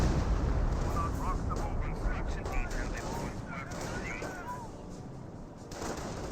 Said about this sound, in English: More artillery raining on in.